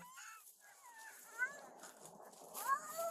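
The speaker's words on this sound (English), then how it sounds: "the incessant licking of a very excited search dog" An excited search dog whimpers and whines in high, wavering cries with soft wet licking sounds, heard up close and fairly quiet.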